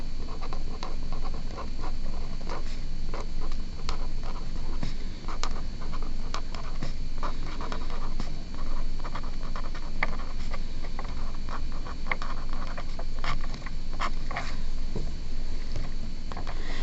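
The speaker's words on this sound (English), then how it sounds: "So I'm going to write that down here." Marker or chalk writing on a board during a math lesson, a steady run of scratchy strokes and taps lasting throughout with no talking.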